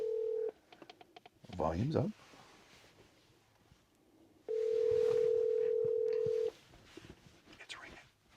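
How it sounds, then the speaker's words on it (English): A telephone call being placed: short keypad dialing tones, a brief voice, then a single long steady ringback tone with faint background sounds around it. "It's ringing."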